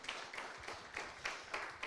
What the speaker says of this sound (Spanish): ¿Le podemos dar un aplauso al Señor en esta mañana,